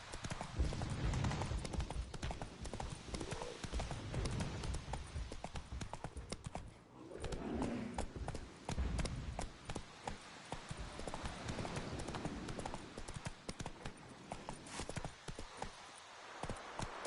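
Roach, a horse in the video game The Witcher 3, gallops with fast rhythmic hoofbeats that stay steady and fairly quiet for a long stretch, with some rustling game ambience.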